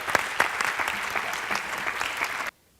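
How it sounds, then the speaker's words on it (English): An audience at a tech week pitch event claps in a dense, steady burst of applause lasting about two and a half seconds before it cuts off abruptly. "another round of applause for Lupin."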